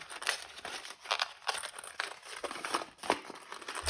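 Paper envelope from a papercraft subscription box being torn open, with steady crinkling and rustling paper and repeated sharp tearing bursts, close and fairly quiet.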